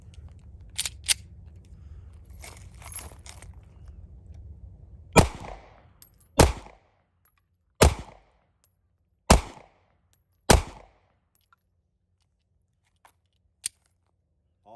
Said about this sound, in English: The G2c, take a couple shots